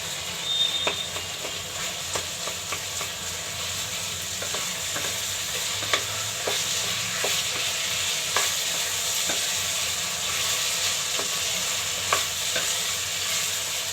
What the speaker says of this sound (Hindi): अब आंच को तेज करेंगे। अब इसे चलाते हुए पकाएंगे।